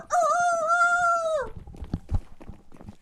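A rooster crow plays loud and close as a team theme at a gaming LAN event, one sustained harmonic call lasting about a second and a half, then fading into muffled crowd noise and bumps.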